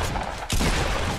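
A loud burst of automatic gunfire in a shooter video game, sharp shots cutting in partway through and rattling on densely above a noisy background.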